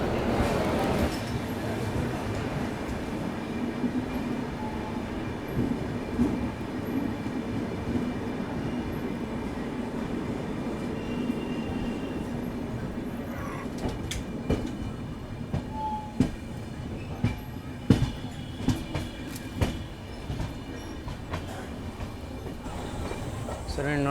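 Kolkata Radhikapur Express standing behind its leading electric locomotive, a steady rumbling rail hum with scattered clanks and sharper knocks growing toward the end, heard close by without talk.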